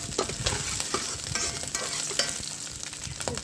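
A bay leaf is dropped into hot oil for tempering, giving a loud, steady sizzle and crackle throughout, with light stirring clicks on top and no talking.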